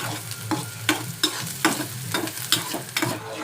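Onions frying in oil for a Maggi dish, with regular scraping stirs of a spatula against the pan, about eight distinct strokes over a continuous close sizzle, no voices.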